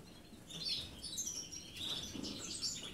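European goldfinch chicks being hand-fed give thin, high, rapid chirps in bursts, close and fairly soft, with no talk.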